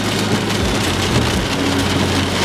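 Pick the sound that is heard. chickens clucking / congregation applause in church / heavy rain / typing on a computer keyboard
heavy rain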